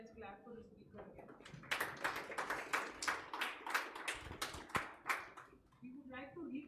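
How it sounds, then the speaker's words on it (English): An audience at a university lecture claps for a speaker, a brisk burst of many hands in a room that swells then trails off, with soft voices at the start and end. "then let's clap for the speaker again."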